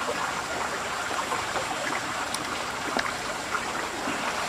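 Water is squeezed from leaves and poured away outdoors, giving a continuous trickling splash that stays moderately loud and steady throughout, with no voices.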